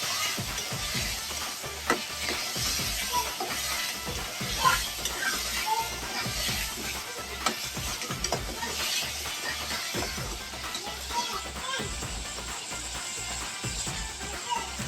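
Turmeric and salt cooking in oil in a pan for chapdi undhiyu, a steady sizzle with repeated scraping stirs of a spoon, close and moderately quiet throughout.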